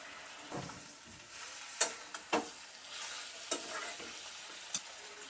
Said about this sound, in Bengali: এবার বাকি পেঁয়াজ কুচি যেটা ছিল ওটা দিয়ে দিচ্ছি, টমেটো কুচি আর কেটে রাখা আলু।